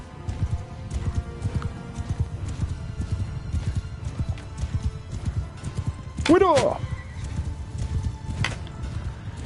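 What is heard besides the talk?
horse galloping during horse archery in Mount & Blade 2 Bannerlord video game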